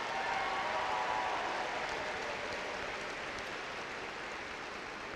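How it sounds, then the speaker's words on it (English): A high school graduation crowd applauds a performance, a soft, even wash of many clapping hands heard from a distance that slowly fades over five seconds. "Let's give one more round of applause to Alec for that tremendous performance"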